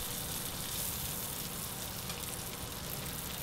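Red and black pepper are stirred in a hot pan on a stovetop, giving a steady, soft, even sizzle with no pauses.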